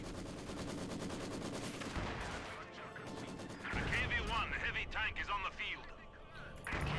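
An artillery barrage in the strategy game Company of Heroes 2 pounds down, a rapid series of booming blasts and crashing impacts with machine gun fire, heard under a caster's excited commentary.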